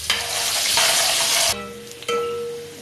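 Two small onions frying in oil for a beef yakhni pulao, a loud steady sizzle with bursts of stirring, dropping quieter halfway through before flaring up again near the end.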